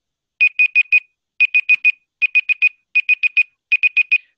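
A timer alarm beeps in fast groups of four sharp electronic tones, each group separated by a short pause, loud and clear against silence with no voices.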